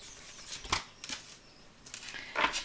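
Tarot cards being cut and shuffled on a table: a few soft, quick riffling and slapping bursts spaced over a couple of seconds, close and fairly quiet.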